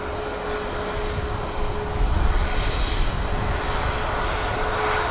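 Ryanair airliner engines at Manchester Airport as the jet begins taxiing for takeoff: a steady, broad roar with a faint whine, swelling slightly partway through and holding loud and continuous.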